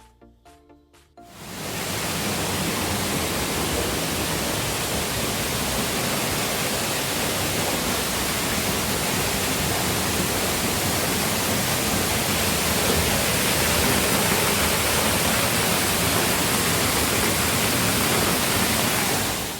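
Waterfall at Paradise Lost in Kenya, a loud, steady broadband roar of falling water that swells in after a brief quiet start and holds unbroken throughout.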